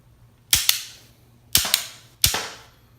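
A Super Impulse RBS toy gun fires three sharp, loud cap-like pops about a second apart, each a crisp snap with a quick second click right after it, alone with no talking.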